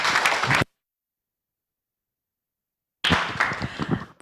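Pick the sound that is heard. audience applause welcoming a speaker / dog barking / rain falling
audience applause welcoming a speaker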